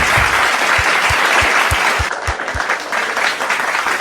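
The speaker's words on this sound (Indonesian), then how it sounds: "Tepuk tangan." Audience applause at an Indonesian gathering welcoming a convert onstage, a loud, dense wash of clapping that holds steady throughout with a regular low thumping pulse beneath it.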